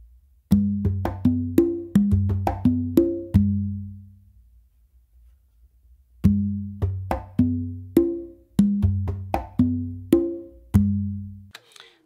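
Hand drums play a bingba groove on congas, two repeated phrases of crisp slaps and resonant open tones separated by a short pause, close and clear with no talking.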